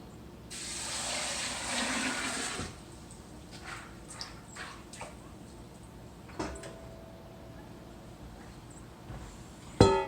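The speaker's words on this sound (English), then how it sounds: "Now, because they've already been soaked, I'm only going to cover them with hot water." Hot water is poured over soaked beans for pressure canning, a close, moderately loud splashing rush lasting about two seconds, followed by quieter clinks, taps and handling noises of containers in a kitchen.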